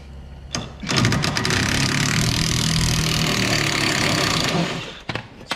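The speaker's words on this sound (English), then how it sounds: "grab our impact, put the 10 millimeter socket on the shaft" An impact wrench fitted with a 10 mm socket spins a suspension shaft on a 2012 Dodge Charger front end, a loud, continuous rattling buzz lasting about four seconds up close, with short bursts at either end.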